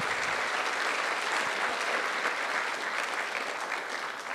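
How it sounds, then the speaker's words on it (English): An audience at a web development conference talk gives a warm, steady round of clapping, moderately quiet and continuous throughout without a clear start or end. "If you guys want to give them a little clap"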